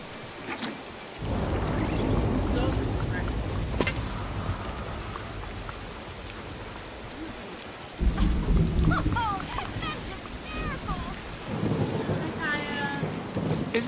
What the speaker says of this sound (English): Is this rain making you listen?